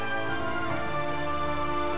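Heavy rain in the video game Dynasty Warriors 9, a dense steady hiss of downpour with a continuous tonal music bed beneath it.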